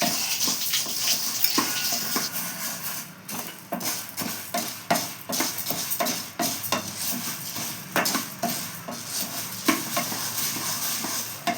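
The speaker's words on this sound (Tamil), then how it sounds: "ஏலக்காய் போட போகிறேன், இது கூட சேர்த்து வறுக்கலாம்" Cardamom pods roast in a pan with other ingredients for munthiri kothu, rhythmic scraping stir strokes of a utensil against the pan repeating over a faint dry sizzle.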